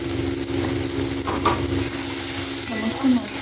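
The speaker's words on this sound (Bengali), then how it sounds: "টমেটো আর পেঁয়াজের সাথে একটু হালকা করে লাল লাল করে ভেজে নেব" Onions and tomatoes fry in a pan with a continuous close sizzle, a low steady hiss of hot oil with occasional stirring scrapes, no talk.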